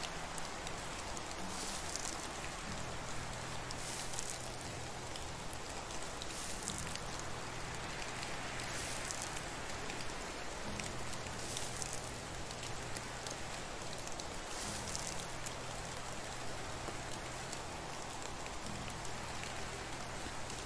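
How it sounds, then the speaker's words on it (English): Steady rain falls in the Medieval Dynasty video game, a dense, even hiss of drops that holds faintly and without pause throughout. "It's always raining in the spring."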